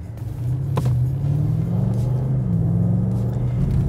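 A BMW M8 sports car's engine idles with a deep, steady, bellowing growl, a brief blip near the start and then a constant low rumble, close and fairly loud with no voice over it.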